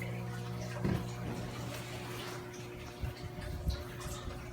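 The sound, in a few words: reef tank refilling with water after water change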